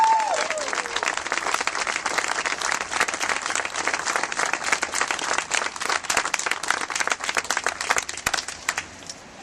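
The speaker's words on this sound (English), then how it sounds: "Let's give Teresa a big round of applause." A room full of people claps for a speaker at a political endorsement event, steady, dense applause that carries on for several seconds before thinning out at the end.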